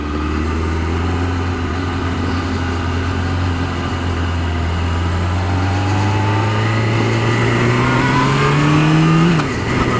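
A motorcycle engine drones steadily while riding on new Sport Tech tyres with the exhaust baffle fitted, its pitch climbing gradually under acceleration before dropping off near the end, close and loud throughout.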